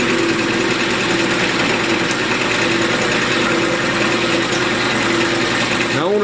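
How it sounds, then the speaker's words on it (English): A wood lathe spins a spalted walnut vase blank, giving a steady loud mechanical hum with a constant whine and rumble throughout, ending in a rising pitch sweep. "Let's go ahead and fire up the lathe"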